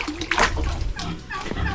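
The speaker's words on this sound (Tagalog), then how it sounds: "Lakas ng tubig dito." Strong water flows and splashes continuously at close range on a farm where piglets and birds are kept, with a voice partly audible over the rushing water.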